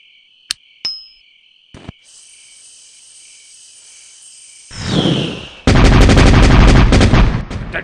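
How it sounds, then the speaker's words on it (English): A cartoon explosion set off with explosives: a couple of sharp clicks and a fizzing hiss, then a rising rumble that bursts into a loud, sustained, crackling blast with no talking. "All we needed was the bang."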